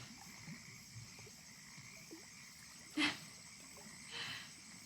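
Frogs croak faintly in a quiet outdoor backdrop, with a sharper call standing out near the middle and another weaker one shortly after, over a soft continuous hiss.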